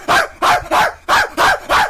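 Dogs barking in the Minecraft video game, six sharp, evenly spaced barks in quick succession, loud and close with no talking.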